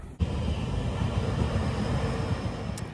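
A train rumbles past steadily, a fairly quiet continuous low roar with rail noise heard from a distance on a walk, beginning with a brief bump and sustained throughout.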